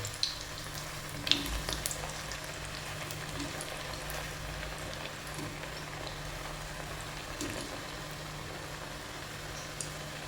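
Banana fritters (pazham pori) frying in hot oil, a steady dense sizzle and bubbling with occasional small pops and clinks, close by and continuous.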